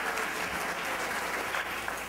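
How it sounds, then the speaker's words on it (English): An audience claps steadily and evenly from start to end at a conference talk, with no voices above the applause. "For those of you not knowing why the clapping is happening"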